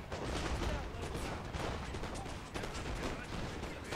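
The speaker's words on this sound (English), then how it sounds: "I was actually shooting canister, trying to shoot it through in between here." A cannon firing canister shot in the Master of Europe mod for a war video game, heard within a faint, dense and continuous battle din of overlapping shots with no clear pauses.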